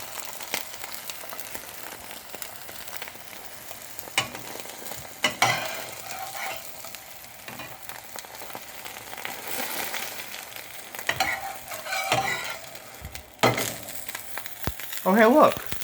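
Eggs and sausage fry side by side in a pan for a breakfast sandwich, giving a steady close sizzle broken by occasional scraping and clattering stirs.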